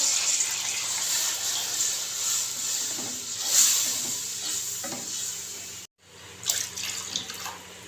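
Water poured from a glass into a hot pot of curry masala for beef kofta curry, giving a steady, loud hissing sizzle and splashing that runs almost throughout, with a brief break near the end, and no talking.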